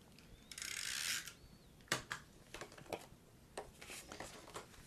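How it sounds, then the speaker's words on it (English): A snail adhesive tape runner is drawn across card with a faint, steady zip, followed by a series of soft clicks and light taps, close up and quiet. "So we're just going to take our snail adhesive"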